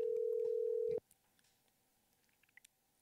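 A steady, loud telephone tone sounds on a call sent to voicemail, holding for about a second before cutting off abruptly and leaving faint background noise with scattered small clicks.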